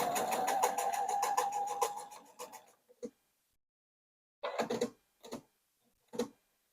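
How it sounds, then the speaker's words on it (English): Rapid, even stitching of a sewing machine running for a couple of seconds, then stopping, followed by a few sparse mechanical clicks and knocks. "I'm following this black line on my sewing machine."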